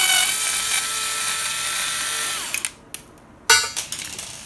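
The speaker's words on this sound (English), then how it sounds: "A long extension on my power screwdriver was the easiest way to get that off." A power screwdriver fitted with a long extension backs out Phillips head screws on a Model 6450 mini mill, whirring steadily for over two seconds before stopping. A few short clicks and a brief second burst follow.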